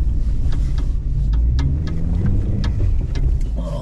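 A car engine rumbles steadily while driving up a slope on a rough route near Závadka, a continuous low drone with scattered knocks and rattles, no one talking.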